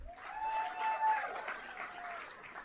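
Steady audience applause in an event hall at a museum fundraiser, a dense wash of clapping that holds evenly across the whole clip, with a faint tonal hum under it.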